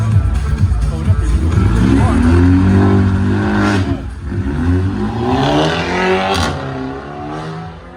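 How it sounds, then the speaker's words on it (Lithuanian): A BMW race car numbered 99 revs at a student racing team showcase, its engine pitch climbing and falling in loud, close sweeps over a crowd murmur. "99 numeriu pažymėtas BMW automobilis."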